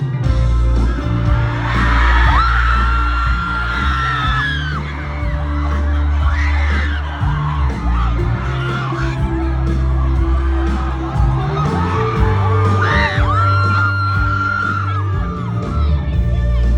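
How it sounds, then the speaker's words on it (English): A concert crowd screams, whoops and yells loudly and continuously as a song begins, with the crowd's voices rising over the opening music. "everybody was straight up screaming because we assumed he wasn't gonna play it"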